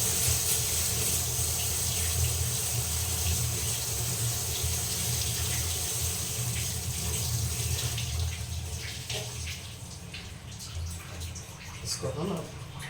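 Radish leaves rinsed under a running kitchen tap, a steady rush of water splashing into the sink that continues throughout, easing slightly toward the end as the leaves are handled.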